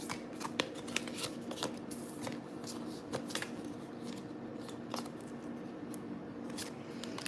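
Tarot cards, said to have gone sticky, shuffled close up in a steady run of soft riffling flicks and slaps, with no talk.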